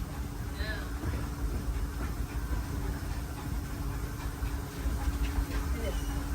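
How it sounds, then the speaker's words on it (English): A Disney park railroad train rolls along its rails through a jungle-themed stretch, a steady low rumble and mechanical drone continuing throughout with faint clanks and rattles. "please remain seated until the train comes to a complete stop."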